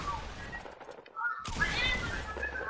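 Gunfire in a Fortnite match, a burst of game shots with a loud crack near the middle, mixed with background game sounds and some talk.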